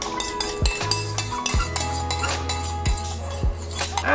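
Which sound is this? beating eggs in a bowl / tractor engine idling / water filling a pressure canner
beating eggs in a bowl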